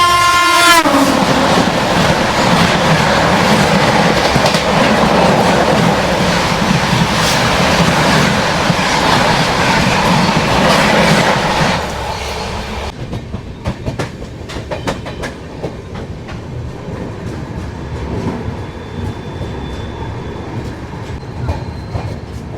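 The Kota Patna Express sounds a long horn blast at Gangapur City railway station, then carriages roll past close by with steady clickety-clack wheel noise that fades to a quieter rhythmic rumble.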